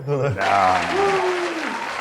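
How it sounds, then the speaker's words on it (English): Canned applause dropped in abruptly after a voice, a short dense burst of crowd clapping mixed under ongoing talk. "Do you want to put in like an applause track there?"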